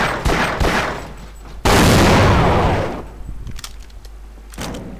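Gunfire in Half-Life 2: Episode One, a cluster of sharp shots followed by one very loud, booming blast that decays slowly, then a few quieter scattered shots close by.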